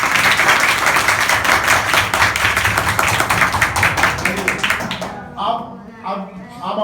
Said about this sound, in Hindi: एक जोरदार ताली बजाओ